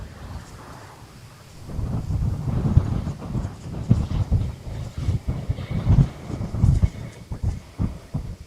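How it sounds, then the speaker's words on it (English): Strong wind buffeting a microphone at Schiphol Amsterdam Airport, a low rumbling roar that swells after a quieter start into loud, uneven gusts and thumps. "I think you guys can hear the wind pretty loud as well."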